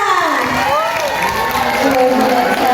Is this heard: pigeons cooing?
no